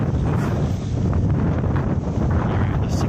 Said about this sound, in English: The wind's blowing them pretty strong.